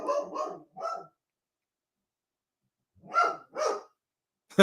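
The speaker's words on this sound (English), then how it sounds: "We don't hear from him until he decides to start barking." A dog barks in two quick bursts: three sharp barks, a pause of about two seconds, then two more. Close and fairly loud, with no talking.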